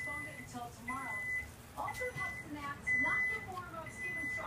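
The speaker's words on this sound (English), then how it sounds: "that's my timer telling me that it's done" A kitchen timer signals that baked channel catfish is done, giving a few short, clear electronic beeps in separate bursts over a noisy room background.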